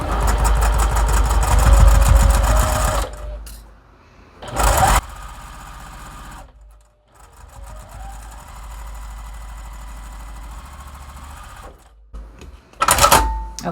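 A sewing machine stitches quilt pieces together in loud, steady bursts. The motor runs, pauses, briefly runs again, then hums at a lower level before one last short burst.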